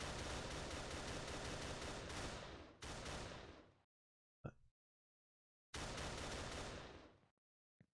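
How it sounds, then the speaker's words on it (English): Video game gunfire from an enemy in a survival shooter, loud rapid automatic bursts fired in long strings, cutting off abruptly into silence and then returning for another burst, no talking over it. "this guy's shooting me"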